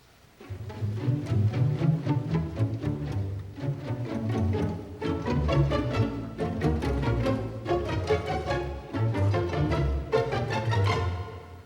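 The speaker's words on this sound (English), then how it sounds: "you hear the notes on plucked strings growing from 3 to 5 notes, from soft to loud" A Sibelius orchestral passage of plucked strings repeats short figures of three to five notes that swell from soft to loud, rich low strings beneath, with no voices.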